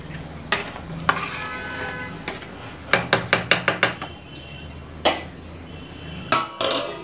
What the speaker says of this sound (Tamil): மிக்ஸ் பண்ணிவிட்டு ஒரு 10 நிமிஷம் கொதிக்க விடுவோம்.